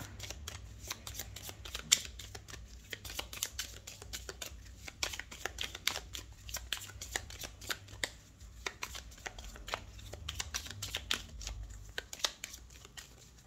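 A deck of tarot cards is shuffled by hand close up, producing rapid, irregular riffling flutters and soft snaps that run continuously for several seconds without speech.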